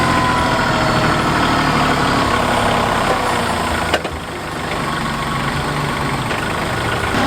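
A tractor engine runs steadily while turning a large compost pile of horse manure outdoors on a warm, windy day, a loud continuous diesel rumble with a brief knock midway and no voices.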